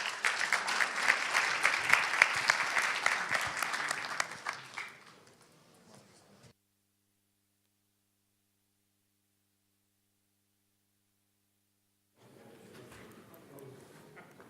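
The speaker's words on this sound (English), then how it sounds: "let's give a round of applause for Andrii." Audience applause at a PyCon Balkan 2018 conference talk, a sustained wash of many hands clapping for several seconds that fades out into silence, followed later by faint room noise and shuffling.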